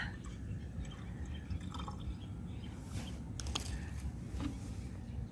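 About 100 cc of liquid fertilizer is poured into roughly two liters of water to make a spray for lime trees, giving soft, faint dripping and trickling splashes over a quiet room background.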